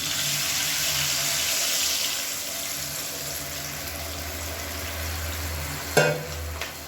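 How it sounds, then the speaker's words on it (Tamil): Tamarind water is poured into a pan of frying pepper rice mixture, a steady sizzling hiss with low bubbling, followed by a couple of brief clatters near the end. "இப்போ வந்து நம்ம கரைச்சி வச்சுருக்க புளி தண்ணியை வந்து இதில் சேர்த்துக்கலாம்."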